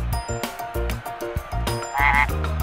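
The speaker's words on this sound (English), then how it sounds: "And frogs!" Cartoon frogs croak in a forest sing-along for a nursery rhyme, giving a run of loud, rhythmic, repeated croaks close up with no talking.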